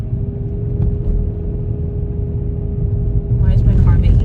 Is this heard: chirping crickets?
no